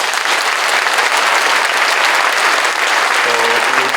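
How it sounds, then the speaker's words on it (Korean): A large church congregation at a Korean Christian anniversary worship service applauds its pastors with loud, sustained clapping from many hands, a thick continuous roar that holds steady throughout. "또 이교환 목사님, 여러 순서들을 맡아주신 우리 총회장님들께 감사의 박수 보내주십시오"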